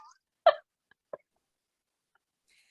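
Two short burps after sipping warm tea, a louder one followed about half a second later by a smaller one, close and quiet in an otherwise silent room.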